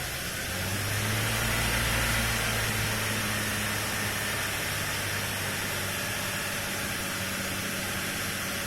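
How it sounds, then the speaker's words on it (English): A 2004 Jeep Grand Cherokee Laredo 4.0L engine held at a steady raised speed, a constant droning hum under a broad hiss, slightly swelling early on and then holding even. "I'll rev the engine to 1600 RPMs."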